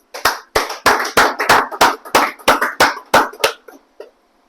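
A church congregation at a Friday worship service claps together in acclaim of the Lord, about ten loud, sharp, evenly spaced claps in unison, slowing and fading out at the end.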